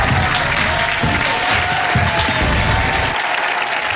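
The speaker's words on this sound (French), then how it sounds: "Applaudissements, nous accueillons maintenant la troisième manche." A French Wheel of Fortune studio audience claps steadily in a dense, loud wall of applause that holds for about three seconds and then quickly thins out.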